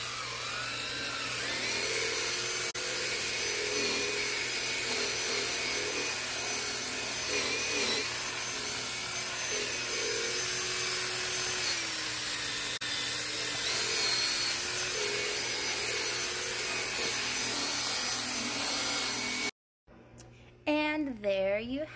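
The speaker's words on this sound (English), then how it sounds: "this brush that goes on the drill" A power drill whirs continuously with a steady motor whine as a brush scrubs against a surface, with speech faintly mixed in.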